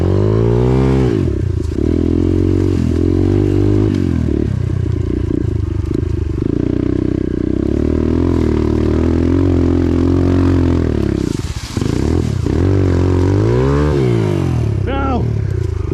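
Pit bike engine revving hard and steadily on a muddy trail as the rear wheel spins, loud and close, with brief dips in revs, a voice talking over it.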